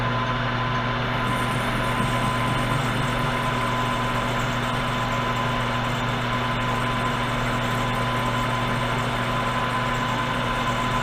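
A metal lathe taking a fine tenth-of-a-thou cutting pass on the outer diameter of an Eagle 66 oil can base: a steady, even mechanical hum with a constant tonal whine, running continuously at close range with no talk.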